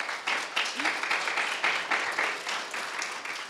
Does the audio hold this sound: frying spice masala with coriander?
no